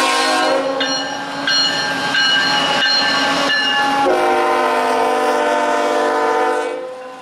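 A freight train passes on the Norfolk Southern line near Newcastle, its horn blaring loud and steady in sustained chords throughout, with rolling wheel rumble underneath and the horn tapering off at the end.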